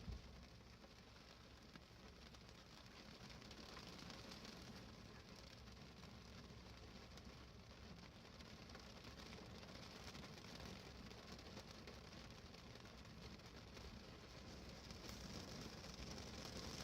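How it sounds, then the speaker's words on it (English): Steady rain shower drumming on the roof and windows of a parked car, a dense continuous patter heard from inside the cabin with no voices. "I've just come across this lovely shower."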